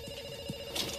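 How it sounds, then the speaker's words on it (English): A telephone rings with a bright electronic bell tone, steady and fairly faint, heard alone for a brief moment without any voices. "we pick up the phone because it's ringing"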